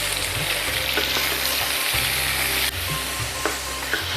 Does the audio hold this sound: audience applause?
no